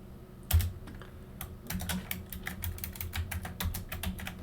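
Fast, close clicking of computer keyboard keys as Cisco router configuration is typed, the keystrokes coming in uneven quick bursts with one louder thud at the start.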